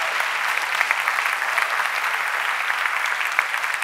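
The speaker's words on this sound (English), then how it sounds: "Can we make some noise for all the speakers that have been up here today?" A conference crowd applauds the day's speakers steadily, a dense wash of clapping that holds at an even level throughout with no voices breaking through.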